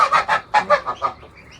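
Geese on an Egyptian farm honk in a rapid series of loud, close calls, several overlapping bursts that fade into quieter clucks toward the end.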